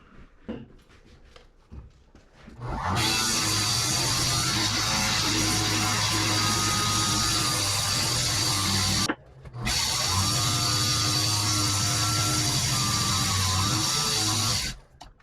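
A cork grip on a fishing rod blank turns on a lathe, a loud steady whirring motor drone with a high rasping edge that cuts out briefly midway and starts again, running alone without any talk.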